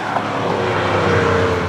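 A 2017 Alfa Romeo Giulia Quadrifoglio in race mode roars continuously up close, a loud, dense exhaust drone that holds steady as the car drives, with no voices over it.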